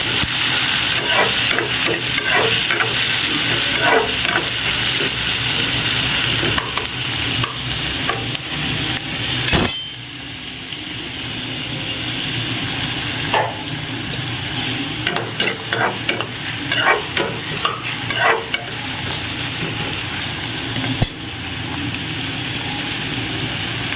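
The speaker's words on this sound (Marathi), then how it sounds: "कांदा टोमॅटो, लालसर होईपर्यंत परतून घेऊया." Onion and tomato sauté in a pan in a home kitchen: a continuous loud frying hiss carries on throughout, broken by clusters of spatula scrapes and taps, with one brief pause near the middle.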